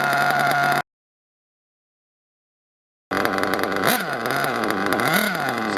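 A nitro RC engine with a slightly too wide idle gap runs in a loud, buzzy idle whose pitch rises and then sags, with a stretch of total silence in the middle and no talk.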